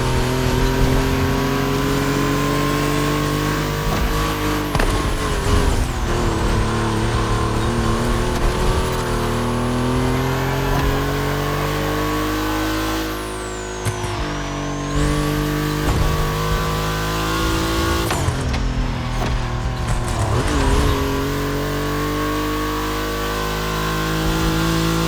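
Volkswagen cars race in The Crew Motorfest's Gymkhana Grid, their engines droning loud and steady, with revs climbing and falling through gear changes and a couple of sharp pitch dips.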